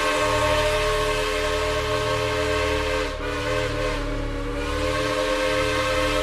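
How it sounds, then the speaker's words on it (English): Steam train whistle giving a long, loud, steady multi-tone wail that holds for the whole clip, with a short dip in the middle, over a low rumbling background. "The long, lonesome wail of a steam whistle."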